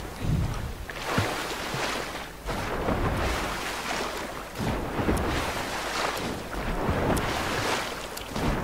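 Steady rushing water and wind noise from swimming in a river in Fortnite, loud and continuous, with surges like splashing movement through water.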